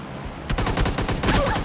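Gunfire in PUBG Mobile Lite: a short burst of loud, sharp shots in quick succession lasting about a second, close and dominant with no talking.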